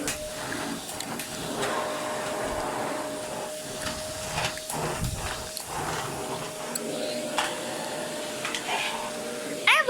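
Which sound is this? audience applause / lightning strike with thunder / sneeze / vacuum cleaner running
vacuum cleaner running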